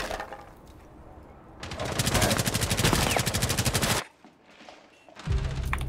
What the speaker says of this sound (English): I got shot from the outside.